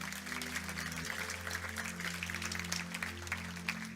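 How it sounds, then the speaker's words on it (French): A church congregation applauds at a baptism service, a steady patter of many hands clapping at moderate distance under a sustained low musical hum. "On peut l'applaudir, on peut l'accueillir."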